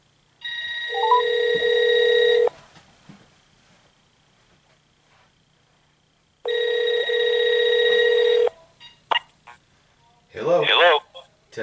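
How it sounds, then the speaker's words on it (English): A vintage 1991 AT&T 4300 cordless telephone being tested gives two long loud electronic ringing tones separated by silence, followed by short beeps and a voice speaking near the end. "So now we're going to go ahead and test out the phone here."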